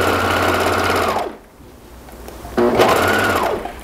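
A sewing machine stitches elastic straps through several layers of fabric, running in a loud steady burst, pausing briefly, then starting up again for a second run close by.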